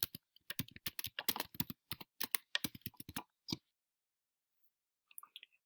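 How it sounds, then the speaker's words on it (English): Quick bursts of keystrokes on a computer keyboard as a citation is entered, a rapid clicking run that stops, then a few last taps after a pause. "you can just type a citation in the big search"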